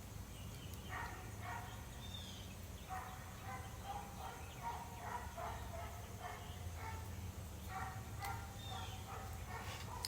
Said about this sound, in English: That barking dog is concerning my dog.